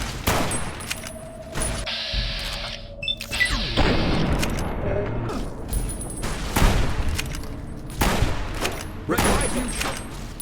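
Grenade rifle blasts from the video game Fallout: New Vegas, a rapid run of heavy booms and crackling gunfire bursts, loud and close, with short gaps between salvos and background game noise.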